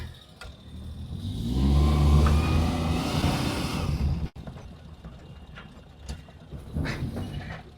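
Engine of a Maruti Omni van pulling away after a gear shift, a loud low drone swelling over the first few seconds, then dropping to a quieter steady hum with faint clicks and rattles.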